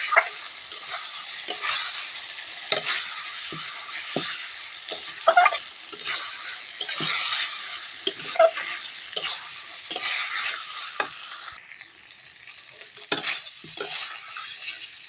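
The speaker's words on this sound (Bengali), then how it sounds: "ভেজে রাখা আলুটা দিয়ে মশলার সাথে ভালো করে কষিয়ে নেব" Fried potatoes being stirred into a spice masala, with repeated scraping strokes of a spatula against the pan over a soft, fluctuating sizzle, close and rhythmic.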